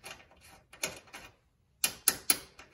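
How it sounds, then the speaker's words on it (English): An M6 bolt is twisted by hand into a threaded hole on a Ford Maverick XL's tie-down anchor point, giving soft scattered clicks and a few sharper metallic ticks with a short pause between them. "We have our M6 bolt. Let's see if it twists in there."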